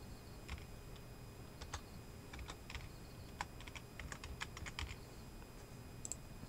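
Someone types a folder name on a computer keyboard while making a bootable USB drive on macOS: a sparse run of quiet, crisp keystrokes, some single and some in quick clusters, over faint steady room noise.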